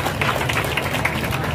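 A crowd at a football tournament prize ceremony on a rainy day claps continuously, a dense, even roll of applause with a voice faintly audible beneath.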